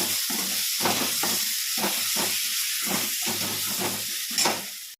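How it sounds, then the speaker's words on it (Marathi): Eggplant sizzles steadily in a hot pan, with a rhythmic series of scraping stirs running through the whole stretch. "आणि असं छान परतून घेणार आहे"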